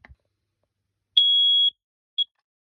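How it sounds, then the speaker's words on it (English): A Fire Angel SO610 smoke alarm from 2009, freshly fitted with a battery, gives one loud, shrill, steady beep of about half a second, then a short chirp after a pause, in an otherwise quiet room. "SO610 smoke alarm."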